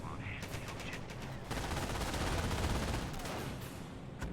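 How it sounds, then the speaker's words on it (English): Sustained MP42 machine-gun suppression fire in a Company of Heroes match, a dense rattling volley of rapid shots that swells after the first second and rolls on steadily, mixed with other battlefield gunfire. "MP42 does get a good suppression burst there"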